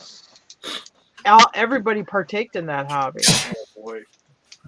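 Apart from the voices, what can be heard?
sneeze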